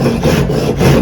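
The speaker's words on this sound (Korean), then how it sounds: "위쪽에 먹금선 끝나는 라인까지 보시면서 톱질을 해주시면 좋을 것 같아요." A hand saw cuts wood along a marked line for a miter joint in traditional joinery, with steady rasping back-and-forth strokes, loud and close with no talk.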